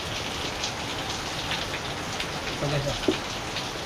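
Steady rain falls throughout on a rainy day, a dense even hiss of drops, with someone speaking briefly partway through.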